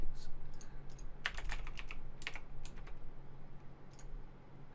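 Typing a new password on a computer keyboard during a Cacti install on Linux, a quick scattered run of soft close key clicks over a faint steady hum.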